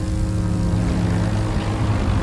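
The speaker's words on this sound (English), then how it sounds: "Tell me we don't have to fly planes." A propeller airplane flies in the racing game The Crew 2, giving a loud, steady, droning engine hum that holds constant throughout, with no talking.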